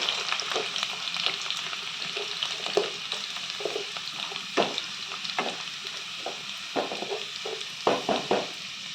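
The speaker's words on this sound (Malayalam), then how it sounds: "ഒരു പത്ത് പതിനഞ്ച് അല്ലി വെളുത്തുള്ളിയാണ് ഞാനിത് എടുത്തിരിക്കുന്നത് അത് നമുക്ക് രണ്ടായിട്ട് മുറിച്ച് അതും കൂടെ നമുക്ക് ഇട്ട് ഒന്ന് മൂട്ടിച്ചെടുക്കാം" Halved garlic cloves fry in hot oil with popped mustard seeds for a homestyle mango pickle, producing a continuous close sizzle broken by intermittent scraping stirs and soft spattering pops.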